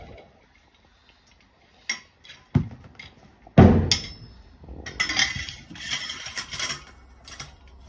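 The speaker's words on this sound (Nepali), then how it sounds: "यसलाई ठोक्नु पर्छ हल्का, नत्र फुस्कन सक्छ। हेम्बर भए हेम्बरले ठोक्नुस्।" Hammer tapping a steel storage rack part into place during assembly: a few sharp metallic knocks, one loud strike near the middle, followed by clattering rattles of metal parts, close up and without talk.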